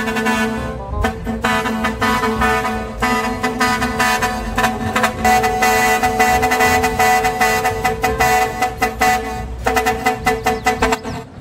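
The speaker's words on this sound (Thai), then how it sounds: "เดี๋ยวฟังเสียงแตรสามชาติซะก่อน" Hino S700 truck horn in Farming Simulator 22, sounding as repeated loud blasts, a series of short toots followed by longer sustained honks with multi-tone harmonics, close and continuous.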